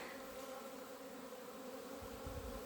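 Honeybees swarm in a steady, dense buzz on their first cleansing flight of spring at an apiary in February, a continuous drone heard up close without talk.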